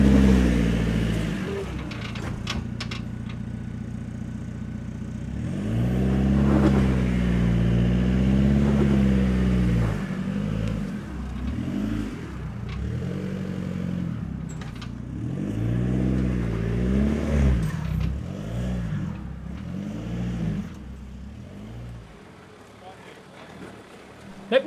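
A Jeep Wrangler JK crawls over a technical rock obstacle at Gees Arm South, its engine droning and rising and falling in pitch through repeated revs, with voices heard alongside the motor.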